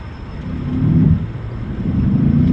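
An F-14 launching off an aircraft carrier catapult in the DCS flight simulator gives a steady, loud low roar of jet engine and rumble that swells slightly and holds for a few seconds.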